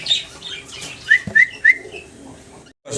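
Pigeons kept for sale at a market give a few short, sharp calls in quick succession, fairly close and clear over a quiet background, with no talk.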